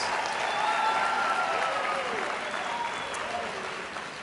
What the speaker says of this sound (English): join me in another round of applause for Sophia Perez